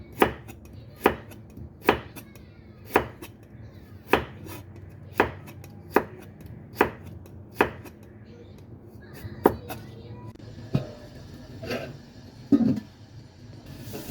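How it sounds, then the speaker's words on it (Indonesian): A kitchen knife slicing vegetables thinly lengthwise on a cutting board, about a dozen crisp, evenly spaced chops at roughly one-second intervals, close and clear, with a soft clatter near the end. "Nah, diiris tipis memanjang seperti ini ya, jangan terlalu ketipisan banget."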